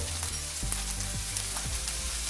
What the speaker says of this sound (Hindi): अभी इसमें डालेंगे डार्क सोया सॉस 2 टीस्पून